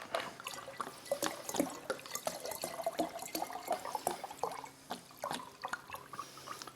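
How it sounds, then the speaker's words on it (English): Quiet water trickling and dripping into a container while vodka is topped up for a plant extraction, a soft continuous splashing with small irregular drops close by. "and I fill back up, to the same place I was before the extraction"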